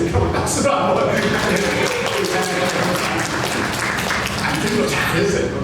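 A church congregation at a Korean Sunday worship service claps together in a full, steady burst that carries through the whole moment, with some voices mixed into the applause.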